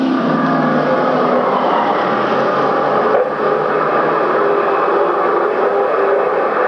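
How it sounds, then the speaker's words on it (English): A race car engine roars on an oval track's front stretch in 1994, loud and continuous, with a brief dip partway through before the noise carries on steadily, with no voices. "Lots of noise coming out of one of those cars."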